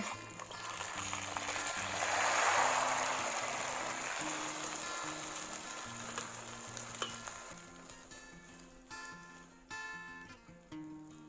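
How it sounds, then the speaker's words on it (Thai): Thai stuffed omelette frying in hot oil, a steady close sizzle that swells loudly in the first few seconds, then settles and thins out with small crackles and spatters toward the end. "ในการทอดทอดด้วยน้ำมันร้อนก่อนนะคะ แล้วค่อยเบาไฟทีหลัง"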